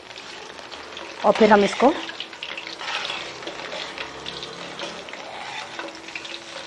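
Boondi batter for laal laddu frying in hot oil in a small kadai, a steady soft sizzle throughout with a brief burst of speech near the start.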